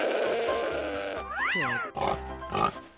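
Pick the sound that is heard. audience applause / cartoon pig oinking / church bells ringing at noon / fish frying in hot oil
cartoon pig oinking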